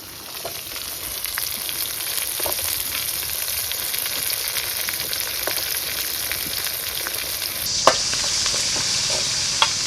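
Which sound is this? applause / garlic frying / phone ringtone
garlic frying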